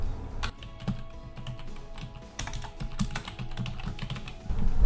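Rapid, uneven keystrokes on a computer keyboard while entering an appointment description in dental office booking software, close and clear, with a quiet hum beneath and no speech.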